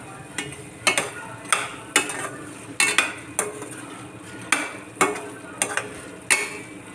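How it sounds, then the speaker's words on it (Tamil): Spoon scraping and clinking against a pan while chilli bread is tossed together, a steady run of sharp metallic strokes about once a second, close and clear with no talk. "நல்லா ஒன்றா கலந்து விட்டுருவோம்."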